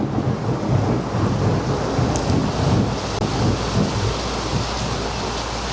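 Thunder from a lightning strike about a quarter mile away during a storm, a deep rolling rumble with rain and wind noise across the microphone, loud and continuous with no voices.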